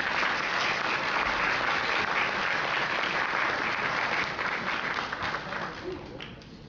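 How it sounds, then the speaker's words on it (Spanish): At a 2014 scientific merit award ceremony at a Peruvian university, the audience gives a sustained round of applause, thick and even, tapering slightly toward the end. "Aplausos."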